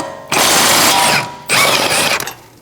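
Ratchet turning a brake caliper bolt on a 2013-2019 Cadillac ATS, two close, loud bursts of rapid clicking separated by a short pause.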